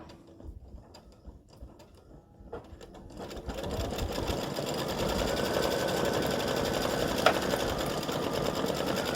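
A computerized embroidery machine stitching out the top straps of a flip-flop design in darker orange thread, starting with faint mechanical clicks and then building into a loud, steady, rapid whirring hum with ratcheting.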